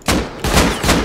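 Three loud bursts of AK rifle fire in a video game, each a broadband blast with a ringing tail, fired in a rapid uneven rhythm close up.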